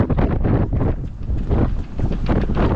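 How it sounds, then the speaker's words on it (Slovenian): Strong wind rushing over a microphone on a sailboat at sea off Egypt, a loud continuous roaring buffet with gusty surges and no talking. "Se ni problem zdaj tak veter"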